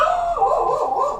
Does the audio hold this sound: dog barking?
yes